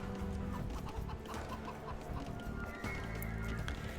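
Chickens cluck in Age of Empires II, a busy repeating flutter of short calls alongside other game sounds, at a soft level with no talk.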